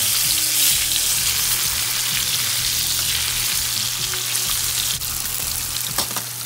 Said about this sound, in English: Okay, our water is boiling,